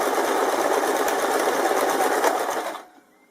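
A sewing machine runs steadily at close range, a fast continuous whirring buzz while backstitching to lock a seam, then stops abruptly near the end, leaving near silence.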